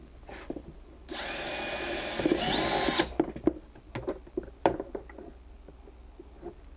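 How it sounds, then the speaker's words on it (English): A power drill whirs loudly for about two seconds, its pitch stepping up near the end, followed by scattered clicks and knocks, while building an amateur radio go box. "I'm going to try with the drill on for once and see if it's loud for you all"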